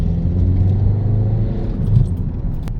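A Citroen DS4 with a 1.6 diesel engine drives under load, its low rumble loud and continuous from inside the car, with no talking.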